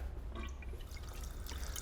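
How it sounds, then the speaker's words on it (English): Water draining from a model canal lock through an opened tap into a holding tank, a soft trickle with light dripping and splashes, close and quiet over a low background hum. "the water in the lock now starts draining into this holding tank"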